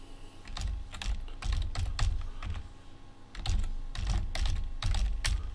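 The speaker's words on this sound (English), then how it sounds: "I'm using the keyboard wherever possible and keyboard shortcuts rather than the mouse." Fingers tap a computer keyboard in quick bursts of keystrokes, pausing between runs as shortcuts are entered; close and crisp, no talking.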